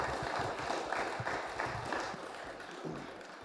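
A small gathering claps for Jack at the close of a growers' event, a dense, steady patter of many hands that holds at an even level through the clip before easing slightly toward the end.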